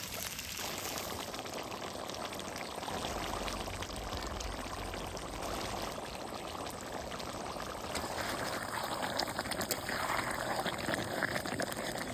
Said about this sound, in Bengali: এই সময় দিয়ে দিব সামান্য জল